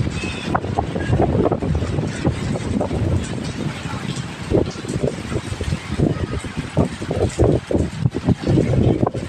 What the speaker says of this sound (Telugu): ఈదురుగాలి వచ్చేస్తుంది నాకు